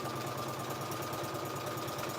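A sewing machine stitching through a plastic transparency sheet gives a steady mechanical whir with a fast, even pulsing hum, running continuously and close without pause.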